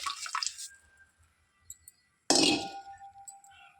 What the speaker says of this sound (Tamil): இது இந்த மாதிரி ஊற்றும் போது ரசம் தெளிவாக இருக்கும்